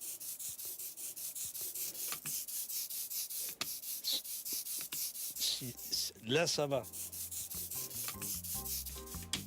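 Dry, gritty rubbing strokes repeat in a steady rhythm, close and scratchy, as ink is rolled onto an engraved woodblock in Épinal; a voice speaks briefly over the scraping.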